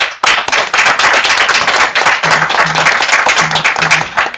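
An audience applauds the mothers attending an event with sustained, loud clapping that fills the room, with faint low tones sounding in the middle.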